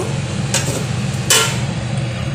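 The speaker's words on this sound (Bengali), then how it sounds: "এবারে আমি ঢেকে দেব।" A lid goes onto a pot of chicken curry with tomato sauce cooking over a low gas flame, two brief light metallic clinks heard over a steady low background hum.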